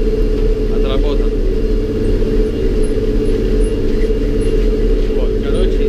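An MTZ 2022.3 tractor pulling a KNK 7.2 cultivator on fallow ground at night: a steady, loud diesel drone with deep low rumble runs unbroken throughout, heard from inside the cab.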